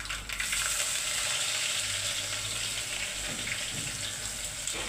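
Garlic frying in hot oil with mustard seeds and cumin, a loud, dense, steady sizzle with crackling, close and continuous, with no talk.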